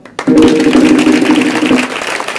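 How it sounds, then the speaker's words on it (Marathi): Crowd applause at a kirtan gathering, a burst of loud clapping that starts abruptly and carries on steadily before easing slightly, with a sustained tone underneath. "त्यांच्यासाठी टाळ्या वाजवा"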